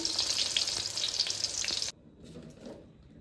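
Anchovy and eggplant sambal sizzles and crackles loudly in a hot pan for a couple of seconds, then the frying abruptly drops away to quiet handling sounds.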